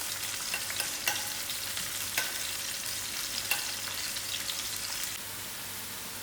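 Onions frying in a pan for an egg and potato curry, a dense even sizzle like light rain with a few sharp spatula knocks, close and steady throughout.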